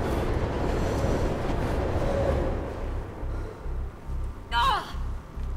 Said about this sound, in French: On va attendre que le métro passe.